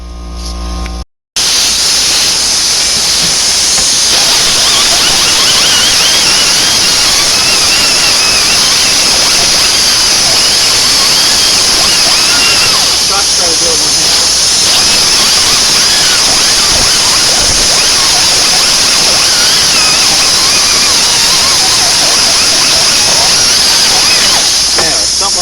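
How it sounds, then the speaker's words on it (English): Continuous crackling, sizzling hiss of tack welding on the rear strut tower of a Grand Prix, with the welder run through an extension cord. The loud, steady buzz fills nearly the whole stretch after a brief gap at the start. "we're going to pry it down and try to tack weld it there"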